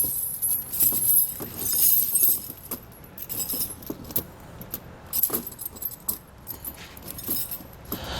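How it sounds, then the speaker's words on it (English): Metal Titan snow tire chains being lifted and draped over the tire of a 2020 Jeep Wrangler, producing close, irregular jangling and clinking in short bursts with pauses between. "I'll just grab the chains and drape them over the top and sides of my tire."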